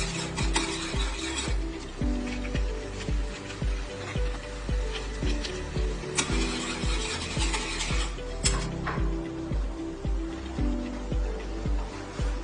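An instant noodle sauce packet simmers in a pot and gets stirred, giving steady sizzling with repeated scraping and rubbing strokes, a few sharper clinks of utensil on pot, and no voices.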